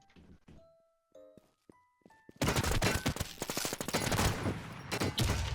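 Loud, rapid automatic gunfire in a shooter video game, dense bursts firing nonstop for several seconds after a quiet opening of soft chimes and tonal beeps.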